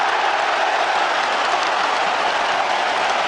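A French rugby crowd roars and applauds after a try in a 1999 World Cup semi-final against New Zealand, a steady, loud wash of cheering with no break.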